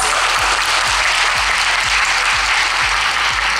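Dense, steady applause from an audience at a Beyblade tournament fills the space, loud and continuous throughout, with a faint regular thumping underneath.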